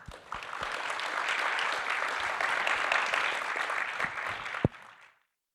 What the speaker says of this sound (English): please now join me in giving a warm round of applause to our really amazing panelists